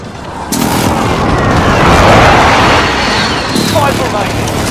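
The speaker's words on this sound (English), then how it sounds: "Friendly precision airstrike inbound." Precision airstrike explosions in Call of Duty: Warzone, a loud sustained roll of booming blasts that swells and rumbles for several seconds, with voices talking over it.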